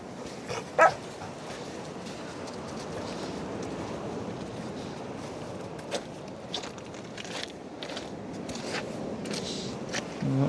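A dog gives a single sharp bark near the start on a windswept, fast-eroding clay cliff coastline at Holderness, East Yorkshire, then a constant rush of wind and surf with faint scattered knocks continues.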